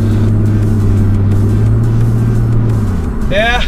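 Corvette engine revs loudly nearby with a deep, steady rumble that swells, then drops away, and a voice speaks briefly at the end.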